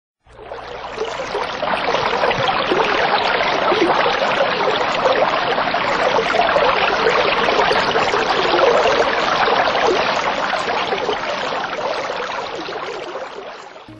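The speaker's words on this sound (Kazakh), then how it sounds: "Бейне жазбадан бұлақтың дыбысын тыңда." A babbling spring runs steadily for the whole stretch, a dense, even rush of trickling water up close with no voices.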